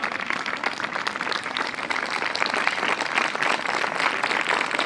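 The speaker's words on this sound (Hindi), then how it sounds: "आपकी तालियां" Audience applause at a Republic Day (26 January) speech event, a dense, steady wash of many hands clapping for about five seconds, fairly close and loud with no talking over it.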